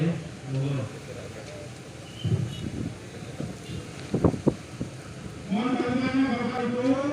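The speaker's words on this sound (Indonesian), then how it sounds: "Hati-hati, anginnya cukup kencang, anginnya sangat kencang." Strong, gusty wind sweeps across an outdoor burial ground at a funeral, buffeting the microphone with loud rumbling bursts while voices talk beneath it.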